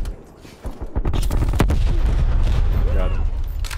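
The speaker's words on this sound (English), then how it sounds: "I think I heard him shooting." Gunfire in Call of Duty Black Ops Cold War: loud sharp shots and booming bursts that fill most of the moment, mixed with game noise and other activity.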